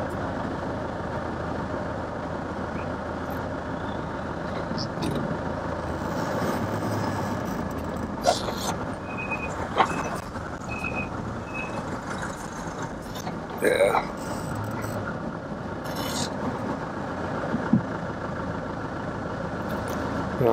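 Vehicle engines idle and rumble low and steady on a snowy hill road while a Mercedes is towed uphill, a continuous close drone with occasional clanks and people talking over it.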